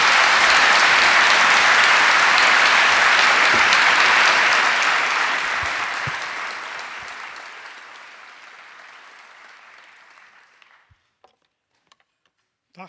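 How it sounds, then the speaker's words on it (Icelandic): A large crowd at an Icelandic rally in support of Palestine claps loudly and thickly for a speaker taking the podium, then the applause gradually thins and fades out, leaving a few scattered claps. "Við skulum gefa honum gott klapp."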